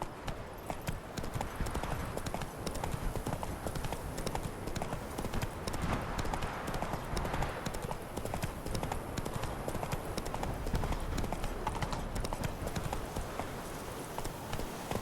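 Roach, the horse in The Witcher 3, gallops in a steady rapid clip-clop of hooves that runs unbroken and loud, with faint ambient game sound beneath.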